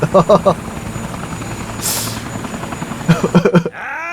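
A helicopter's rotor thrums loudly and close in the video game Yakuza 4 Remastered, while people talk over it at the start and the end.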